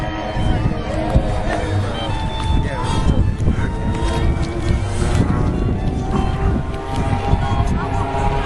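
A loud, continuous drone of a B-29 bomber's four big piston engines overhead at an air show, thick low rumble mixed with wind buffeting and a murmuring crowd.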